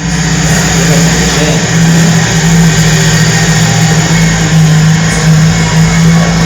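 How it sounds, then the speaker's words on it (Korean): A tractor ploughing a field runs with a loud, steady engine drone and a continuous low hum, close and unbroken throughout. "트랙터로 이제 땅을 막 갈아엎어요"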